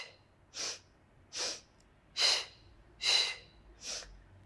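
Five evenly spaced, breathy exhales during a Pilates lower body workout, each a short forceful puff of air, close and clear against a quiet room.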